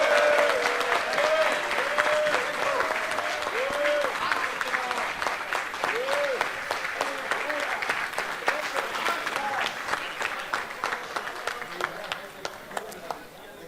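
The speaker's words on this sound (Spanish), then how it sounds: "Y último invitado para presentar, fuerte aplauso también para Álvaro Martínez Bueno." Audience applause fills a Spanish comic-convention conference hall as a guest is introduced, steady dense clapping with voices of the crowd mixed in, gradually thinning toward the end.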